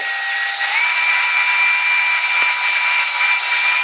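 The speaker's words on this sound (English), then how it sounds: "you can drill halfway through because it should be hollow in" A power drill bores through a hollow synthetic Hogue rifle stock, whining at a steady high pitch, its tone shifting up slightly early on, then holding constant.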